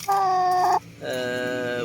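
Rhode Island Red brown layer hens call loudly and close by in two drawn-out, tonal clucks separated by a brief pause.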